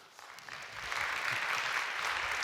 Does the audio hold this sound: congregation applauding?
yes